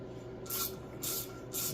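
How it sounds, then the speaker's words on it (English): Brake cleaner sprays in three short bursts into the threaded stud holes of a Farmall 450 tractor engine block during final assembly. Each hiss is close and sharp, with brief pauses between. "once I spray all this out with brake clean"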